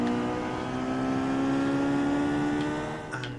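Race car engine winding up steadily as it accelerates off the start line in Forza Motorsport, a loud continuous rising whine with no break, sitting alone near the listener.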